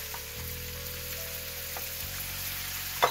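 Two large red onions frying in a pan, giving a soft, steady sizzle under a low background hum, with a brief clatter at the end.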